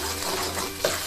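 A spoon stirs a soy sauce mixture for a three-flavour tofu sauce in a pan, giving a soft, steady scraping and liquid swirl with one brief clink near the end.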